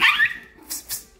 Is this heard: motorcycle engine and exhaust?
no